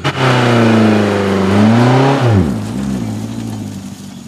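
A car engine revs hard during a driving lesson, holding a loud, strained mid-pitched roar, then sagging and dropping away to a lower, rougher idle as the revs fall.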